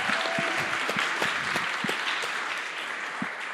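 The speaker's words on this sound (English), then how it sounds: "Okay, everybody, big round of applause for Konrad and the team." Applause from a pitch-competition audience for a startup team: dense, sustained clapping from a sizable crowd, holding steady and then thinning slightly near the end.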